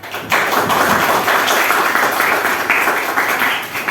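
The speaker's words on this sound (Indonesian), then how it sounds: "Tepuk tangan buat Dimas" A class of students gives a round of applause for a classmate during a lesson, dense steady clapping from many hands that starts abruptly and carries on for several seconds before tapering slightly.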